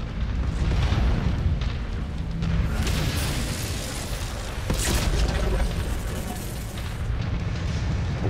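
Explosions from a destroyed target in the mech combat game Mechwarrior 5: loud, rolling booms with a sharp burst partway through, sustained heavy rumble throughout.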